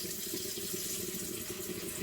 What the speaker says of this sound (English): I'm going to put some water in the pot so I can get that going